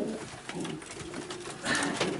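Racing pigeons in a loft coo softly in low, rolling calls, steady and close, with a fuller burst of cooing toward the end amid faint rustling.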